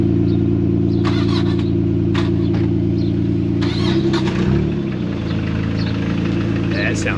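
Car engine idling steadily in a driveway as it is moved, a low even rumble close by, with brief clatters and a short shift in tone midway; someone speaks over it.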